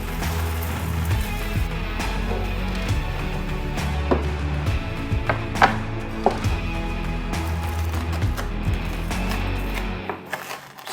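A knife cuts through a golden fried potato rösti in a pan, giving a series of sharp crunchy chops and scrapes over a steady low background hum, with no voices.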